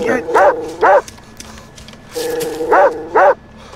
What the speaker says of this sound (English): The dogs are eating them!